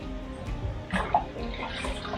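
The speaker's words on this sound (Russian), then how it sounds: "в разные места печки будем поливать, закидывать воду" Water splashed onto hot stones of a stove in a Russian black (smoke) sauna in Altai, giving a brief hissing, splashing burst amid low background rumble, with no speech.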